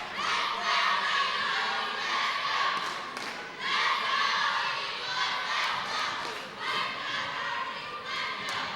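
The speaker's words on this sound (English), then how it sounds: "We have a cheer versus cheer." Rival high school student sections at a boys' varsity basketball game in a packed fieldhouse chant and cheer against each other, a loud, sustained crowd roar with rising surges and shouted bursts, late in the fourth quarter.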